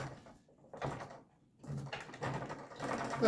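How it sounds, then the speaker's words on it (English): Parkside PKS 1500 B3 cross-cut miter saw having its lock and unlock mechanism worked, giving a few close, short mechanical clunks and rattles in separate bursts with quiet gaps between. "lock and unlock mechanism"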